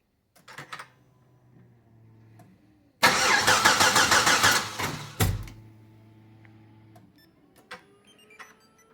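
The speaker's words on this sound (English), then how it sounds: "Now I'm gonna attempt to remote start it." A car engine with a rebuilt Nissan 1.65 cam and rockers and an exhaust leak cranks by remote start and catches after a few quiet clicks, revving briefly before cutting off, then fading to near silence.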